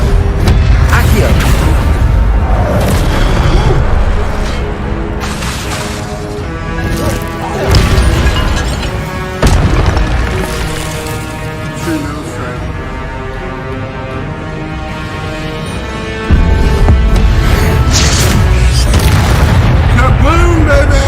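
Spell explosions from the Hogwarts Legacy video game land as heavy, booming crashes, several loud hits spread over a sustained musical score, with a voice talking at times.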